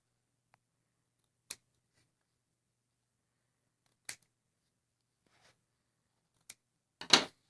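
Scissors snipping the fabric corners of a sewn pincushion, three or four short, crisp isolated cuts spaced a few seconds apart in a quiet room.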